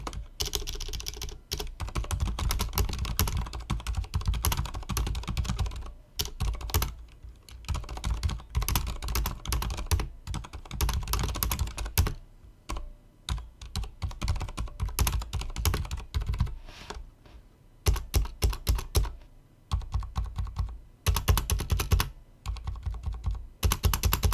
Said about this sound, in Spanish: No limitan el golpeo de la barra contra la cara interna del backplate y genera un ruido horroroso